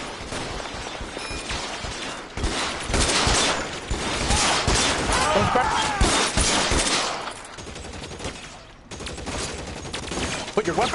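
Gunfire in the PS4 video game L.A. Noire comes as dense bursts of rapid shots in a shootout, mixed with mechanical game sounds and loud throughout, with a brief drop in the middle.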